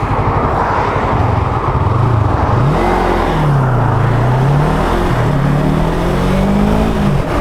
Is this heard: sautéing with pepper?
no